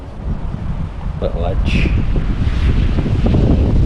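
Strong wind buffets the microphone beside a fishing lake, a loud, low, continuous rumble that builds through the moment, while someone says a few words early on.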